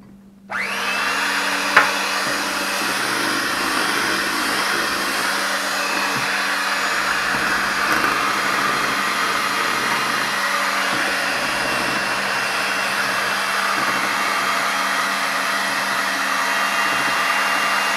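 A hand mixer whirs steadily through carrot cake batter, a loud constant motor drone that starts abruptly and holds without a break.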